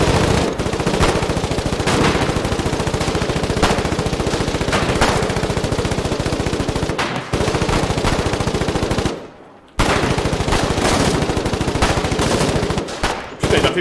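Machine gun fire in the Foxhole war game: long, loud, rapid sustained bursts close by, broken by a few short pauses and one brief silence.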